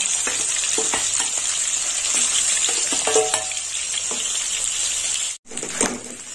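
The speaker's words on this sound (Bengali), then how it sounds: "মাছের মাথাগুলো ভাজা হয়ে গেছে" Fish heads fry in hot oil in a pan up close, a loud, steady hiss and crackle with occasional stirring clatter and a brief cut-out near the end, with no voices.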